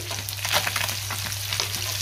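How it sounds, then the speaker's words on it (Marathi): Rohu fish fries in oil with a constant close crackle and sizzle, steady and unbroken, with no voices. "दुसऱ्या साइडने सुद्धा मी 2 मिनिटं फिश चांगला फ्राय होऊन देणार आहे"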